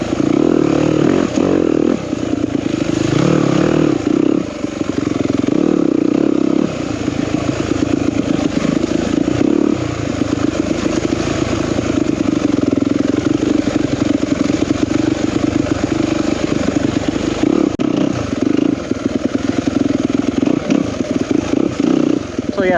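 Yamaha YZ250FX dirt bike, a 2021 four-stroke off-road machine, ridden nearby with a steady loud engine drone and throttle changes rising and falling across the ride, continuous throughout.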